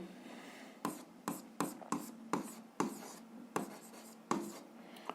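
Pen strokes scratch across paper as an answer is written out by hand, about ten quick distinct scribbles spaced through a quiet room, close and soft.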